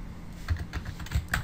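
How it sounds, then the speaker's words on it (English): Keys clacking on a computer keyboard while text is entered into an image editor, a quick run of soft, uneven taps at close range with no talking. "and I'll type in"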